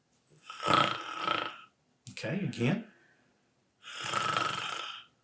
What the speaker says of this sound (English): make a snore noise